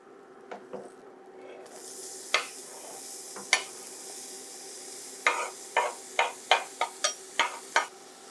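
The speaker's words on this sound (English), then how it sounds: "we got our butter nice and sizzling here. Let's go ahead and add our onion" Chopped onion hits sizzling butter in a pan as taco-flavored stuffed pasta shells are being prepared, a soft hiss running throughout, then a quick series of close spoon scrapes and taps toward the end, with no voices.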